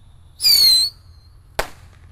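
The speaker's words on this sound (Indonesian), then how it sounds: "ada roket mini tor kita nyalakan dua sekaligus" Two mini firework rockets lit at once launch with a sharp rising whistle lasting about half a second, followed moments later by a single crisp pop.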